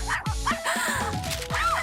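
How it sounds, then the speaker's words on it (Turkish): A small dog barks and yips several times in quick bursts, close and loud, with a few whimpering notes between barks. "Vay işte buradasın köpekçik."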